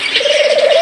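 A budgerigar gives a single short warbling call, close and fairly loud, lasting under a second.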